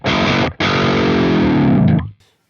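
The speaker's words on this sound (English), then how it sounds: "I am surprised how it makes your guitar really sound baritone-ish" A heavily distorted, downtuned electric guitar sounds through the Neural DSP Archetype Petrucci amp plugin, giving a thick baritone-like tone. Two sustained chords ring out with a brief gap, then cut off cleanly.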